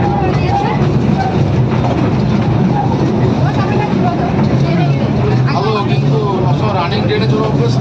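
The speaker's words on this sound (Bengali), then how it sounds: "আমরা কিন্তু এখন ট্রেনে চলেছি" Riding inside a moving train: a steady rumble of the carriage under people talking throughout.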